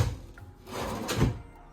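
Wooden drawers of a newly built fitted wardrobe slide and knock into place, giving a couple of close, hollow thuds over a short, fairly loud stretch.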